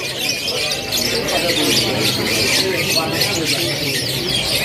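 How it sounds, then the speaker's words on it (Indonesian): Caged canaries chirp and squawk in a steady, dense chorus at Pramuka bird market in Jakarta, with continuous busy market noise running beneath the birdsong throughout. "Warna oranye ekornya kotor tapi burungnya terpantau lagi ngeriwik"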